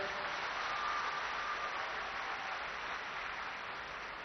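Children applaud together at a science congress in Tirupati, a steady, even wash of clapping from a large young audience, moderately distant and heard alone without talk.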